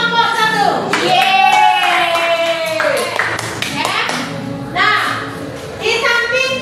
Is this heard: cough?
no